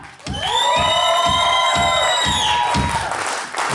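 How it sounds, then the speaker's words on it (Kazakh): A crowd claps for a contestant named Abzal, steady rhythmic applause close and loud, with cheering and whooping tones over the clapping. "Абзалға шапалақ бар ма?"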